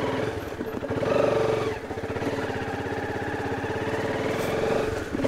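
A motorbike rides a village dirt road between fields, its engine droning steadily and close throughout with slight rises in pitch.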